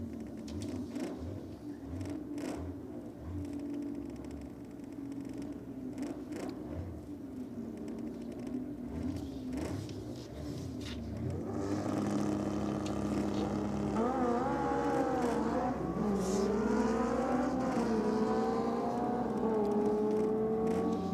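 A Kawasaki drag racing motorcycle at a drag strip revs and launches, the engine note rising loud through several shifts after a rumbling idle, with crowd and ambient noise behind it.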